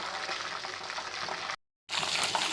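Chicken 65 pieces deep-frying in hot oil, a steady dense sizzle and crackle at close range that cuts out briefly to silence, then resumes just as strongly.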